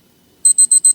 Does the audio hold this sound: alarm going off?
yes